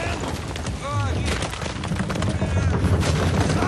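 Rapid bursts of gunfire crackle in a busy mix from the video game Uncharted 4: A Thief's End, with an electronic chirp and a voice talking over the shots.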